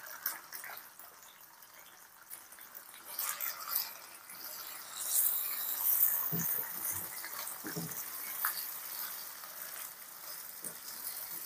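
Chicken pieces sizzle in hot oil among fried onions in a pan, a soft steady crackle with occasional stirring scrapes, fairly quiet and close with no talk.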